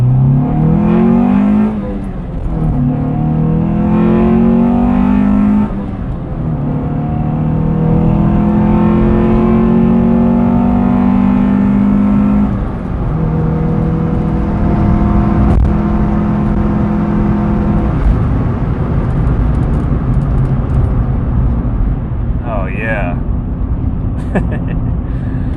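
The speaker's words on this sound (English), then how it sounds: "that's the sound you guys keep hearing is a beautifully set up conservative Honda exhaust note. Intake note, actually" A 1998 Acura Integra RS with its Honda four-cylinder engine pulls uphill, the intake note rising and falling through several gear pulls as revs climb steadily, loud and close inside the cabin, with someone talking over it.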